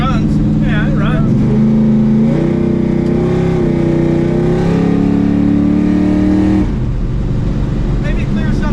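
An aluminum 5.3 V8 idles high and rough, breaking up, with a steady loud engine drone whose pitch climbs and shifts as it revs, with voices talking over it throughout.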